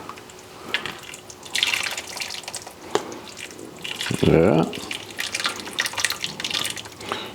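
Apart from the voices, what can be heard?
Rouladen cooking liquid being strained and poured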